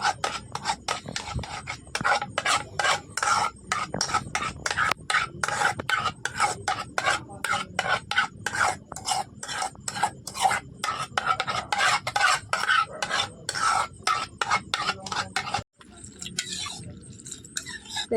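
A milk mixture with powdered milk for sweet yogurt is stirred in a pot, producing rapid, rhythmic scraping strokes that repeat steadily for many seconds, close and prominent, before a brief pause near the end.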